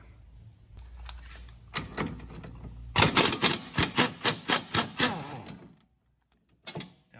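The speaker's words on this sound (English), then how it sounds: "So I can just rattle that off, and then I should be able to slide the shock out." An impact wrench hammers loose a shock absorber nut on a Honda Civic: a few tentative bursts, then a loud, rapid rattling run of about two seconds that cuts off, close up, with a brief clunk afterward.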